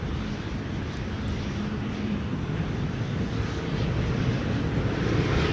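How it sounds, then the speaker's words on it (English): A KLM Boeing 737-900 arriving at Amsterdam Schiphol during a storm, a continuous broad jet roar mixed with wind noise, steady and fairly loud throughout. "KLM flight 1199 to Oslo, a 737-900, also arriving here"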